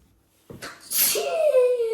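One sharp sneeze bursts out of near silence, close and loud, trailing into a short voiced breath.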